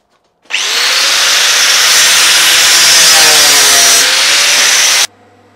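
A power saw cuts steadily through a broken aluminium steady rest part for about four and a half seconds, loud and continuous with a faint whine, then stops abruptly.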